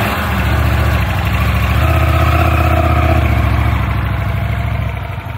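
A motorcycle engine idles steadily and loudly close by while the bike is turned around on rough ground at a campsite, a continuous low throbbing rumble that holds even for about five seconds before easing slightly.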